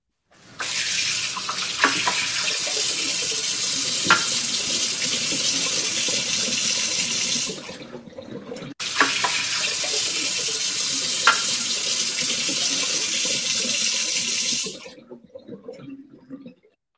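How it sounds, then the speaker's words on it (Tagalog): Tap water runs steadily from a faucet into a sink, a broad continuous rush lasting about seven seconds, stopping briefly, then flowing again for another six seconds before cutting off, close and fairly loud with no talk. "Ayan, umaagos na tubig"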